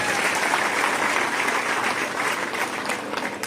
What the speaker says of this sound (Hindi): इनके लिए मैं चाहता हूं सभी कर्मचारी साथी जोरदार तालियों से इनका स्वागत करें, अभिनंदन करें।